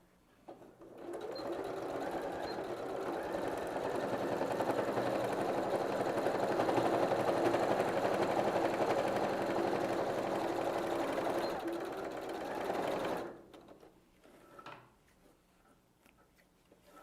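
A sewing machine runs continuously for about twelve seconds while stitching the side seam of a denim bag, a steady close whirring drone that stops abruptly, followed by a few quiet handling clicks.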